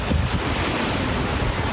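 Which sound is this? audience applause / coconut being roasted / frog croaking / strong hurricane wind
strong hurricane wind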